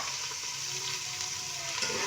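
Chopped onions sizzle and fry in a pan, a steady crackling hiss with light stirring, close and alone for a couple of seconds.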